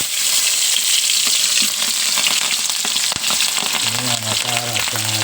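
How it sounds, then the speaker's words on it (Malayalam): Split green chillies frying in hot coconut oil: a loud, close, continuous sizzle and crackle with a brief clunk midway, under no talking. "ഇനി നമുക്ക് ഈ വെളിച്ചെണ്ണയിലേക്ക് നമുക്ക് ഈ പച്ചമുളക് ഇട്ട് കൊടുക്കാം"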